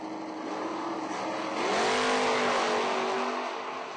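Drag racing cars, one of them a Camaro, roar down the strip together in a loud, sustained engine blast that rises as they accelerate away, with no talk over it.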